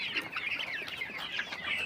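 Brown cock chickens cluck and chatter softly in a flock, a faint, continuous mix of overlapping calls without speech.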